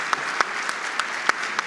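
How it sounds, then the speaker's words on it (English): A roomful of people clapping at a corporate CEO panel discussion, a steady, fairly loud patter with a few sharper individual claps standing out. "I will give you a thunderous applause once again"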